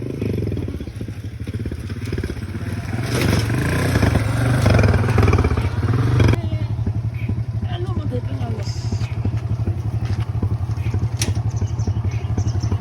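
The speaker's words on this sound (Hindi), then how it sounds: "ये आ गया रिक्शा।" An auto rickshaw engine clattering and putting nearby as it pulls up, growing louder then settling into a steady idle, with people talking over it.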